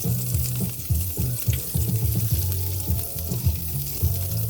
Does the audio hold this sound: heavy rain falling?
no